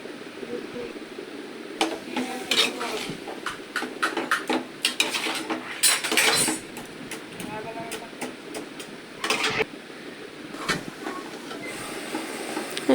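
A spoon stirs food in a cooking pot seasoned with turmeric and chili powder, giving sharp metallic scrapes and clinks at an uneven rhythm. A voice talks over the clatter.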